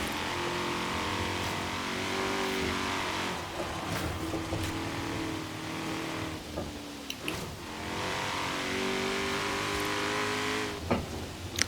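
Ford Mustang Shelby GT350R engine in Forza Horizon 3, droning steadily and close with repeated revs and gear changes; the pitch climbs, dips briefly at each shift, then climbs again, with no talking.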